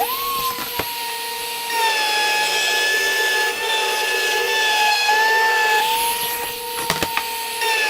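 A power saw cuts wood panels for a Murphy bed, giving a close, steady whining drone with a few sharp clicks near the start and end and no speech.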